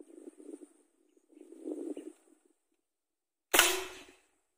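A PVC spray-type toy gun fires a marble with one sharp, loud pop and a short trailing rattle, after quiet murmuring voices.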